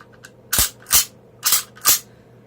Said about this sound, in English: Straight pull bolt action. That's what the Ross was known for.